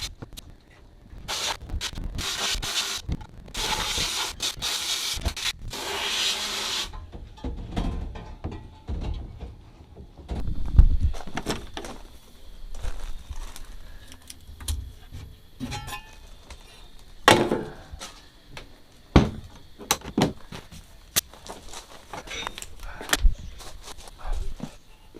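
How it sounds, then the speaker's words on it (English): Rusty parts cleaned in an abrasive blast cabinet: a loud, steady rushing hiss of blasting for several seconds, then scattered clunks, taps and rattles of parts being handled inside the cabinet, with no talking. "I like this stinking blast cabinet. It's been so satisfying just to pop stuff in there and clean it up."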